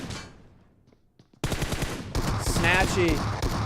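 Rapid S12K shotgun blasts in a PUBG match crack out in a dense, loud burst after a brief quiet gap, layered over ongoing game noise and a commentator talking.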